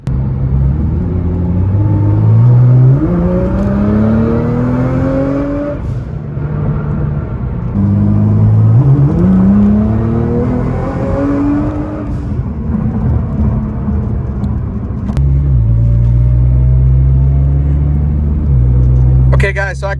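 A Nissan GT-R with a flashing check engine light revs hard through repeated rising gear pulls on the road, roaring loudly with brief shifts between climbs, with voices talking over it.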